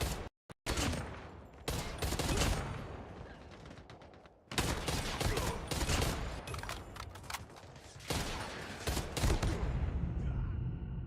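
Heavy, dense gunfire and explosive bursts fill a Call of Duty Mobile world championship finals match, loud and nearly continuous, with brief dropouts between dense stretches of shooting.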